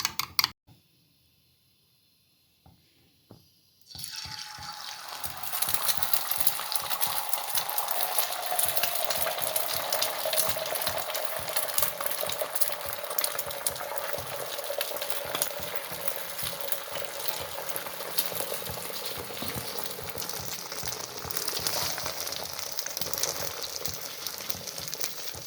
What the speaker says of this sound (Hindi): अब अंडे को हम फ्राई कर लेते हैं तवे के ऊपर।